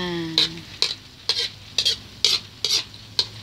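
Egg and sardines frying in a pan, with a spatula stirring through the sizzle in a series of about seven quick, evenly spaced scraping strokes close by.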